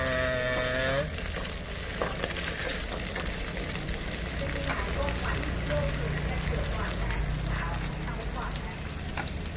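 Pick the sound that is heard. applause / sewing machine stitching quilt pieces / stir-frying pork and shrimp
stir-frying pork and shrimp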